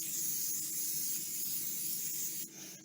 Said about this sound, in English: I'm going to spray my baking sheets with non-stick spray.